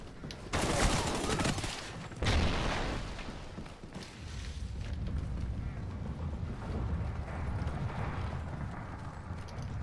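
Gunfire in the Call of Duty: Ghosts video game: a dense, loud volley of shots up front, a second burst, then a sustained rumbling mix of fire and noise.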